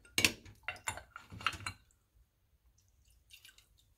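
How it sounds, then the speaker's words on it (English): A carburetor float bowl from a Yamaha Warrior ATV's Mikuni carb being rinsed off after soaking in dip cleaner, with a few quick splashy, wet squishing bursts up close, then faint drips and small trickles fading out. "Kind of rinse it off a little bit here."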